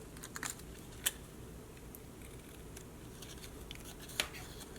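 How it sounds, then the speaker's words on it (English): A few quiet, sparse snips and clicks of scissors cutting paper, isolated against a faint room hiss, with no talking. "So I'm trimming down around with my scissors."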